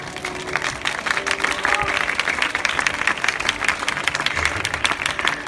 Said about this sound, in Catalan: Pot ser un aplaudiment més fort?